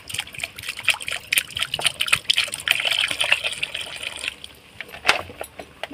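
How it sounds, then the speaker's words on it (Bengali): Water is poured into red lentils frying in a pan, a close, splashing gush with trickles that eases off near the end. "এবারে আমি এখানে পরিমাণ মতো জল দিয়ে দিচ্ছি"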